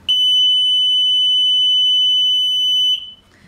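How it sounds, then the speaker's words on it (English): A loud, piercing electronic alarm tone sounds continuously for about three seconds, then cuts off abruptly. "That's a smoke detector, similar to a smoke detector."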